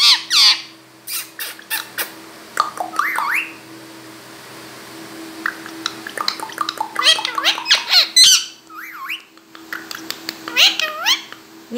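A pet talking parrot gives loud, shrill squawks and chattering calls in bursts close by, some sounding almost like meows, with a person talking softly between the calls.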